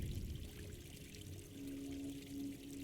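Water rising in the game Gris, heard as a steady pouring, rushing flow that runs continuously and fairly softly throughout, with a faint tonal hum joining partway through and no talk.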